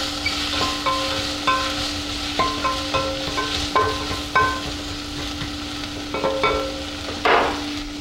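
Chopped onion fries in butter in a pan while a spoon stirs it, steady sizzle broken by repeated rhythmic scraping clinks against the pan, close and clear, with a steady hum underneath.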